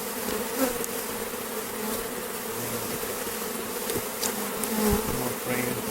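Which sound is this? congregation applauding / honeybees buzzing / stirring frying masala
honeybees buzzing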